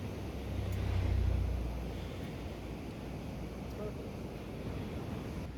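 Sea surf washes along Calicut beach in Kozhikode, a low, steady roar of waves with wind buffeting the microphone, swelling slightly near the start.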